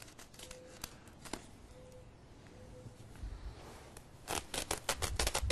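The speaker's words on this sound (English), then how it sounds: "just carve an X into the plastic mulch here" A blade cuts an X into plastic mulch covering a container garden, making sharp crinkly snips and scrapes up close, with denser plastic rustling toward the end and no voices.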